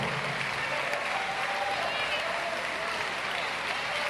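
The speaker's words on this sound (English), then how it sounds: "Give Jonathan Jackson another great round of applause" Sustained applause from a crowd, steady and fairly distant, with a faint voice carrying over it.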